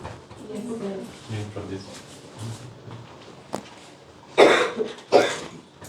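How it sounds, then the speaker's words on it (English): A person coughs twice in short harsh bursts near the end, close by, after a stretch of low conversation in an indoor evening gathering in Vrindavan. "You have a cough, do you?"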